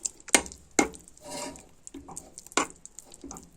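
Quick clinking taps and soft stirring scrapes of a spoon whisking a mixture with sugar and honey in a bowl for pumpkin cake, in short irregular bursts, close by.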